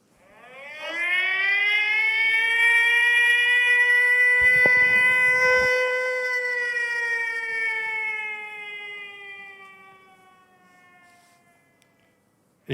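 Air raid alert siren sounding from a phone app in Ukraine, a loud rising wail that swells, holds steady for several seconds, then slowly winds down and fades, with no talking.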